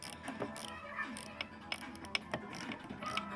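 A ratchet fitted with a universal socket turns a fastener on an '86 Sea Ray boat under restoration, giving faint, close, irregular clicks and metallic ticks at a low level.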